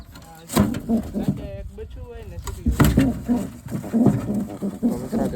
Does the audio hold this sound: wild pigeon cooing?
yes